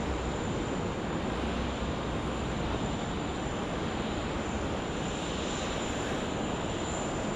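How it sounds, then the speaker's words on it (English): An Airbus A330 departs Sydney Airport's runway 34 left with a continuous broad engine roar, loud and steady throughout and no other voices. "we'll bring you all the action for this guy departing off 34 left"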